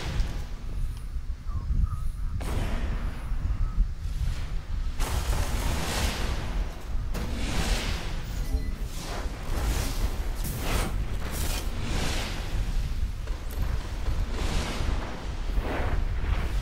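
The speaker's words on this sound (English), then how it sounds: "They're throwing grenades down the hall." Grenades thrown down a hallway in a shooter game explode in a string of heavy booms and rumbling blasts, layered over continuous dense battle noise.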